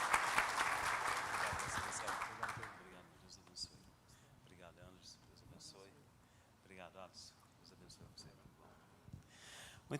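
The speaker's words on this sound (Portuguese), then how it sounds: "Eu queria pedir uma salva de palmas para esses 2 gigantes aqui" Audience applause at a business gathering held by a church group: a loud burst of clapping for about three seconds, then it breaks off and a single voice speaks over a quiet room.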